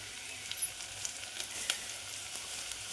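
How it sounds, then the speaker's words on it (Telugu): Onions sizzle steadily in hot oil in a pan for a homemade chicken curry, a soft continuous frying hiss with faint crackles and pops, no voices. "ఉల్లిగడ్డలు అయితే మంచిగా వేగినాయి."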